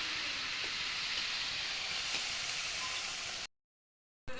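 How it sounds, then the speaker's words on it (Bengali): Water poured into a pan of sautéed pointed gourd and potato curry gives a steady, loud hiss of sizzling steam that runs unbroken, then cuts off abruptly near the end. "সবজিগুলো কষানো হয়ে গেছে, পটল আলুর তরকারি। এবার আমি এতে জল দিয়ে দিলাম।"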